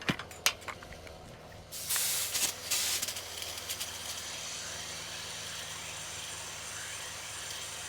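An old sprayer brought out of retirement pumps up pressure and then sprays water from its wands, giving a steady broadband hiss that swells after about two seconds and holds level, with a few sharp knocks early on.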